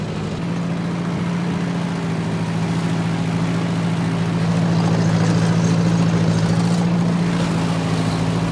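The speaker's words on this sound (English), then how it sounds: "I'm doing everything with this little old tractor right here." A little old tractor engine runs at a steady low idle on a farm, loud and close, its rumble swelling slightly midway with no voices.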